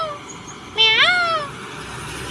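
A voice imitates a peacock call: one loud, rising, strained wail lasting about three quarters of a second, with no other sounds around it.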